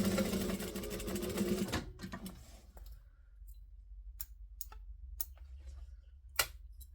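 A sewing machine stitches fabric in a fast, dense whir that stops abruptly, followed by scattered sharp clicks and taps as the work is adjusted, close up and without speech.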